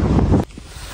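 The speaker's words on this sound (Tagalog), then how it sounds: "Malakas ang hangin." Strong wind blowing in snowy winter weather outdoors, a loud steady roar for the first half that drops to a quieter rush, with a burst of noise returning at the very end.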